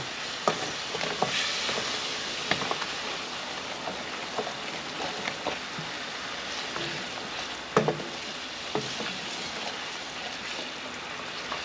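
Onion and spices frying in a pan for a Bengali hilsa and eggplant curry, a steady close sizzle with occasional scraping stirs and clinks, continuous throughout with no talking.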